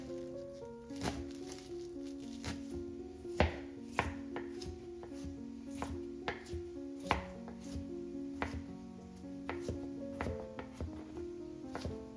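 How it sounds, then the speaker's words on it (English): Steady knife strokes chop water chestnuts and green onions on a cutting board in a home kitchen, a quick irregular run of close, crisp taps with a few sharper knocks, and no voices. "I'm going to start chopping the water chestnuts and the green onions, the chives."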